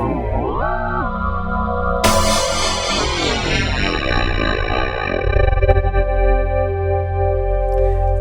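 Yamaha Montage FM synthesizer tone sweeps and bends in pitch, its timbre shifting from bright and buzzy to distorted and wobbling, with heavy effects and a deep low drone.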